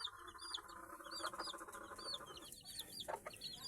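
Mother hen and chicks clucking and cheeping steadily, with high chick peeps repeating throughout and a few louder hen clucks near the middle and end; the birds are close and there is no talk.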